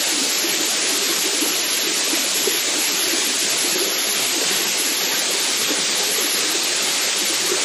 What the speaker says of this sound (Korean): 원각 폭포가 정말 멋있는 게 폭포가 여러 갈래로 이렇게 물이 떨어지고 있습니다